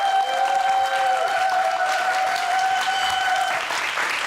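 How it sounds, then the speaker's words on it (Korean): A studio audience breaks into applause to welcome a guest on a startup talk show, sustained even clapping with a faint tonal hum beneath, fading slightly near the end. "큰 박수로 환영해 주세요."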